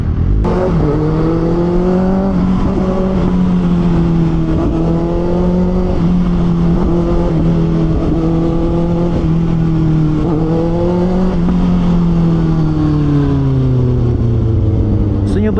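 A motorcycle engine runs continuously while being ridden, a steady, close, loud drone that rises and falls gently in pitch with throttle changes and never drops away.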